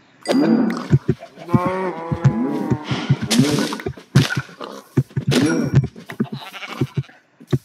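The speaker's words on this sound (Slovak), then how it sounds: "Kravičiek." Cattle moo loudly and repeatedly up close, a series of drawn-out, tonal lowing calls, some rising and falling, separated by short gaps and scattered knocks.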